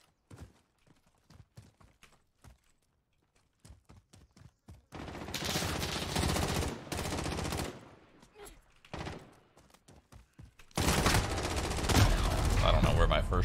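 Gunfire in Call of Duty Modern Warfare: scattered sharp single shots early on, then sustained loud bursts of automatic fire with brief pauses between volleys, ending in a heavy continuous barrage.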